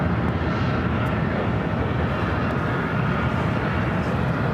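Jet aircraft, a CRJ, roaring steadily through a takeoff run on runway 24 left at LAX, a loud continuous broadband engine rumble with no voices over it.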